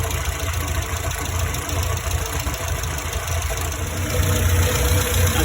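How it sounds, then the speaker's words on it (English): A Morris Minor engine idles steadily after an SU carburettor adjustment, a loud, even running hum that rises slightly near the end. "I think the idle's about right."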